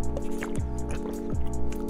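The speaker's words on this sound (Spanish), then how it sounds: "escúchenme tomar agua." Someone drinking water close to the mic, with rhythmic gulping and swallowing sounds repeating about three times over a steady background hum.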